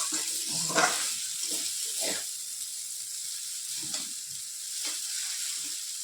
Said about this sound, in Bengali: এখন একটা হাতা দিয়ে থাকে মিশিয়ে নিচ্ছি এইভাবে এইভাবে হাতা আর খুঁটির সাথে এইভাবে আমি মিশিয়ে নিচ্ছি